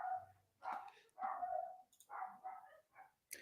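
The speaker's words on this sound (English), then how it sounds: "That's a dog." A dog barks several times in short, separate bursts at a distance, faint and somewhat muffled, with brief pauses between barks and no talk over it.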